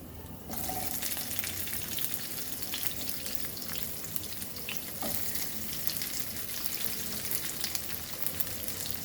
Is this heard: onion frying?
yes